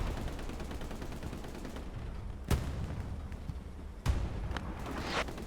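Gunfire in the World War II shooter Hell Let Loose, with a steady battlefield din of distant shots and two sharp, loud cracks standing out, one near the middle and one toward the end.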